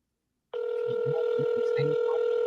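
A steady telephone tone comes in after a brief silence as a call is put through a transfer, close and continuous, with a voice murmuring faintly underneath.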